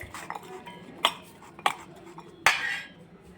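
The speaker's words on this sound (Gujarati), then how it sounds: "એક ટીસ્પૂન જેટલું ચીલી ફ્લેક્સ હવે આપણે બધું જ મિક્સ કરી દઈશું" A spoon stirs salt, chaat masala and chili flakes together in a bowl, giving soft scraping with a few sharp clinks against the bowl, close and fairly quiet with no talking.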